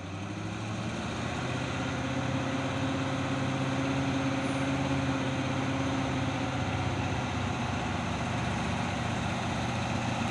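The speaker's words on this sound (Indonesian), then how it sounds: "Masuk lagi truk trailer Puso." A Mitsubishi Fuso trailer truck's heavy diesel engine labors slowly up the steep Bukit Kodok hill, a loud, steady low rumble that holds without a break.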